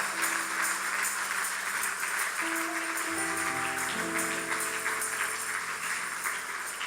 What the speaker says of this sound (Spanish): Dale un fuerte aplauso, hermanos, a la gloria de Dios en esta hora